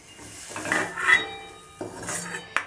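Fried lentils are scraped and lifted out of a pan with a metal utensil, giving a few close, irregular scrapes and clinks against the cookware in an otherwise quiet kitchen.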